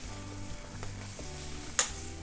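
Eggplant frying in olive oil with crushed garlic in a pan for an Italian pasta, a steady close sizzle with a few soft stirring knocks and one sharp brief clack near the end.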